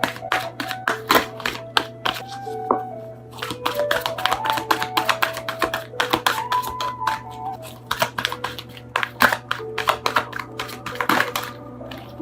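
Tarot cards being shuffled by hand produce rapid, close, irregular clicking and snapping in quick bursts with short pauses, over soft steady background music.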